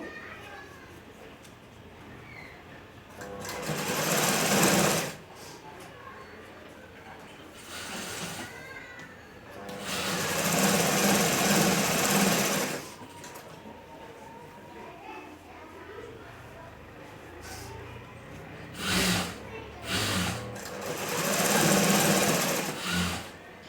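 A sewing machine stitches a kunchige lining in several separate bursts of loud whirring, with quieter gaps between them where a voice talks and faint background noise continues.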